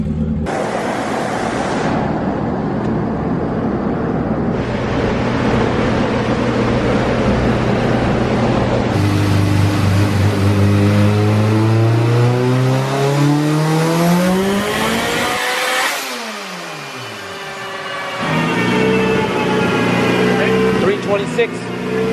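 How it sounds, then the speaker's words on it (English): A big-turbo Honda engine revs hard on a dyno and climbs through rising pitch, drops off briefly, then winds up again; a loud, droning mechanical roar with occasional voices underneath. "I'm gonna give you guys a little bit of Troy's car in the dyno"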